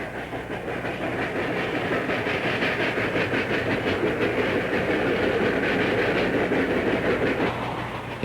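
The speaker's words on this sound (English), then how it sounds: "We filmed a southbound Rio Grande freight south of Littleton" A southbound Rio Grande freight train with a steam locomotive on the point rolls steadily past, its wheels clattering rhythmically under a constant loud rumble and hiss throughout.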